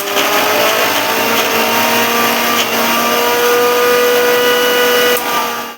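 A mixer grinder whirring steadily as it grinds masala with tomato, a loud continuous high-pitched motor drone that holds evenly before cutting off at the end.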